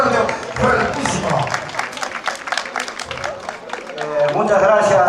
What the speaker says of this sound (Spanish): Fuerte la palma, por favor, el aplauso fuerte, fuertísimo